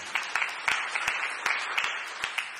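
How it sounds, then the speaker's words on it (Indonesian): A church congregation claps during a sermon, a sparse, uneven patter of individual claps with distinct sharp hits rather than a dense roar. "Yang setuju, tepuk tangan yang meriah bagi Tuhan."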